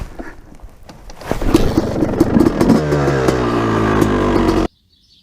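Twelve-year-old two-stroke dirt bike engine kicking into life and running, revving up to a loud, steady raspy drone close by before stopping abruptly.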